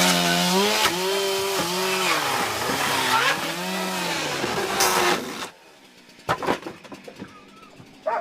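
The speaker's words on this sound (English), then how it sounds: "You can't even operate the chainsaw." A chainsaw engine runs loud and close, its pitch rising and falling as it revs, then cuts off, leaving a few sharp knocks and thuds.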